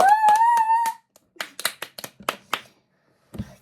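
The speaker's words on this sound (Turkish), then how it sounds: "Hadi alkışlayalım" A small audience claps in a room, a short scattered burst of about eight sharp, separate claps after a brief high tonal sound, then quiet with a faint low thump at the end.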